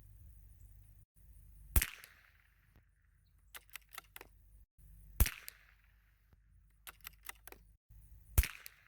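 Three sharp .22 LR rifle shots fired with CCI Standard Velocity ammunition at a 50-yard range, spaced a few seconds apart, each a crisp crack followed by clicks of the bolt being cycled between shots.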